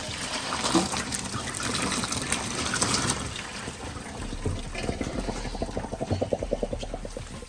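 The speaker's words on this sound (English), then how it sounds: "Let's drain our pasta water." Pasta water gushes and splashes steadily into a sink as pasta is drained, a continuous rushing pour with a rhythmic gurgling toward the end.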